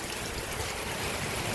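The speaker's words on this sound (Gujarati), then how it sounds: "પાણી ધીમે ધીમે ચાલે છે" Water running slowly through a village area after rain, a steady soft rushing wash with no breaks and no voices.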